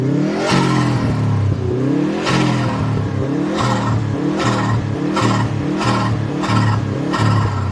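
A Subaru WRX turbocharged engine revs repeatedly while driving, each throttle lift followed by a fluttering turbo chatter; loud, close engine pulses in a steady rhythm, with no talking.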